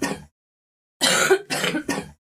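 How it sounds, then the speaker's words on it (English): Three or four harsh coughs, close by: one short cough, a pause, then a quick burst of three. "Don't keep coughing so,"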